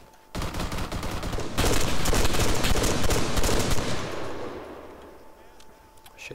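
A light machine gun firing in ArmA 3, a loud sustained burst of rapid automatic fire lasting several seconds with booming echoes, fading into a rolling reverberant tail.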